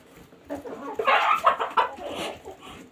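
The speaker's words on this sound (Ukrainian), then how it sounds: "Ось так наші курочки поїдають кабачок." Chickens cluck and murmur at close range while pecking at a zucchini, a short burst of busy hen sounds that rises in the middle and then eases.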